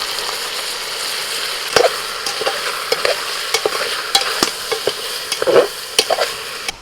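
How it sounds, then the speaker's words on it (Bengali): Mutton coated in spices and beaten yogurt being stirred in a hot pan, with a steady sizzle and repeated scraping strokes of a spoon at an irregular pace, close and alone. "এবার শুধু হচ্ছে ভালো করে নেড়ে নেড়ে মিশিয়ে নেওয়া"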